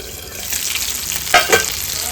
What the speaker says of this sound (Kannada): ಮುಚ್ಚಿ ನಿಧಾನವಾಗಿ ಫ್ರೈ ಮಾಡ್ಕೊಳ್ಳೋಣ.